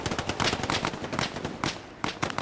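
Rapid WWII rifle and machine-gun fire crackles in Hell Let Loose, fast bursts of close shots in a quick stuttering rhythm.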